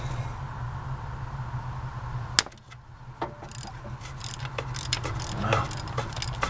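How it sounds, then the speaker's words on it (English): Small wrench loosening a tight bolt on a 1989 Ford Ranger with a 2.9L V6 during coolant work, heard as scattered close metallic clicks and ratchet-like ticks over a steady low hum. "I'm using a teeny wrench."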